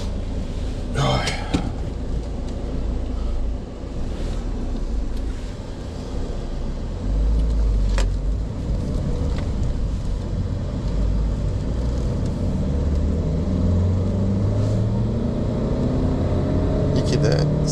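A 2004 Mazda 3 with a 1.6 turbo diesel accelerates hard on the road, giving a continuous low engine drone and rising rumble from inside the cabin while someone talks over it.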